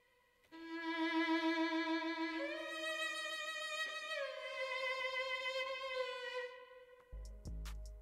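A dry violin sample with no effects, from a beat, playing long sustained notes that step between pitches, then stopping abruptly before a few short low thumps and clicks.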